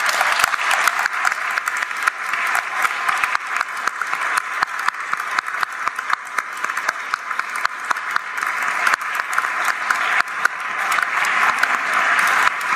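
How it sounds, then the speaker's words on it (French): A congregation applauds in Saint Joseph Cathedral in Rouyn-Noranda during a closing Mass, steady dense clapping filling the space for the full stretch with no voices over it. "On peut les applaudir."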